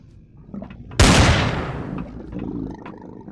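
Gunfire in the game Empyrion Galactic Survival erupts as a single heavy, booming blast that decays into a long rumbling tail, followed by quieter scattered mechanical sounds.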